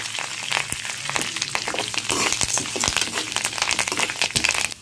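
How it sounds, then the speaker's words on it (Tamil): Lentils roast in a pan for a chutney, producing close, dense crackling and popping with irregular sharp ticks over a continuous frying hiss. "பருப்பு எல்லாமே வறுபட்டு செவந்து வர ஆரம்பிச்சிருச்சு"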